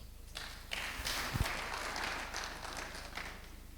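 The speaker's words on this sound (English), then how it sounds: "Please give him a round of applause." Audience applause at an investors forum, a steady wash of clapping from a crowd lasting the whole stretch, moderately loud with a few sharper claps standing out.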